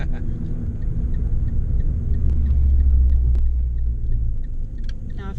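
A manual-transmission car's engine rumbles low and steady from inside the cabin during a stick-shift driving lesson, swelling slightly midway with no talk over it.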